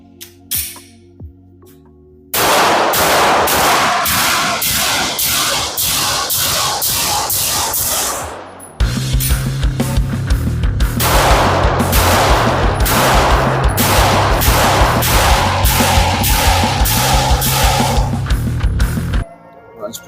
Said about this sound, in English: Let's put a couple more mags in it, put some more rounds down range.